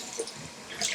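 Warm tap water running briefly for wetting a beauty blender, a short soft splashing trickle with a small burst near the end, close and quiet.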